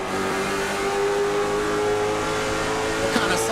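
A Late Model Stock Car at Myrtle Beach, heard from onboard during a lap, holds a steady high-revving engine drone that bounces off the rev limiter, with commentary voices underneath.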